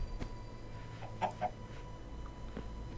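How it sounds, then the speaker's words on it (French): A Minecraft chicken clucks in two or three quick, fairly close bursts in the middle of an otherwise quiet game ambience. "On a entendu un poulet."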